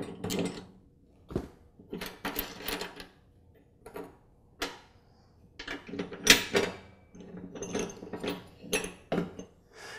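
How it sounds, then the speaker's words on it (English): A ratcheting socket wrench works a nut off the deck idler pulley of a Troy-Bilt Pony lawn tractor, giving close, intermittent bursts of dry mechanical clicking separated by short pauses. "I'll use a wrench to secure the bolt on the underside of the pulley, and then a socket wrench to remove the nut on the top"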